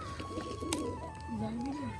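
Pigeons, Turkish Tumbler birds, cooing close by in low, wavering calls, several coos overlapping across a steady background hum.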